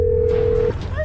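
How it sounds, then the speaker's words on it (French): A telephone gives a steady electronic tone for most of a second, then cuts off, followed by faint rising beeps like dialing or ringing, over a constant background hum. "tu entends le téléphone"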